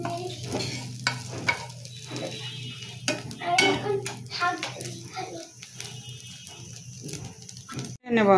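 Onion and egg fry in a pan with a soft sizzle under scraping and stirring, plus clinks of utensils against the pan and faint voices in the background.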